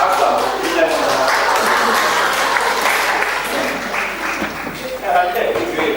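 A church congregation gives a sustained round of applause, a dense, steady clapping that stays loud through the whole stretch, with voices faintly mixed in.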